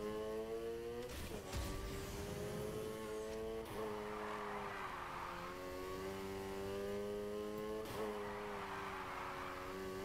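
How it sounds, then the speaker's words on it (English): A car drifts in the racing video game Need for Speed Heat, its engine revving and holding high with rising and falling pitch, broken by brief gear-shift dips and tyre hiss, loud and continuous with no talk. "maintain the drift."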